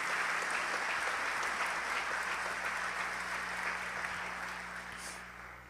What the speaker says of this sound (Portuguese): Pode aplaudir o Senhor pela vida do pastor Júnior.